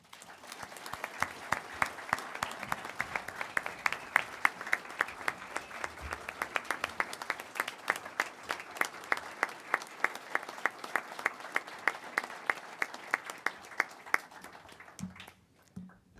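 Audience at a city commission meeting claps in steady applause for about fifteen seconds, many hands in a dense, moderately distant patter that fades out at the end.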